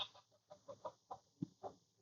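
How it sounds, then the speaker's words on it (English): Chickens cluck nearby in a quick, irregular series of short, clipped notes, with one lower, louder cluck near the end and no talking. "I got fucking chickens fucking or something around here."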